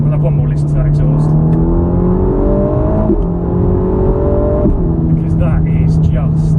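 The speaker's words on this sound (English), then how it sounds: "We'll have one more listen to that exhaust" Ferrari Roma exhaust under way, a steady engine drone whose pitch climbs and drops with gear changes as the car picks up speed, close and loud throughout.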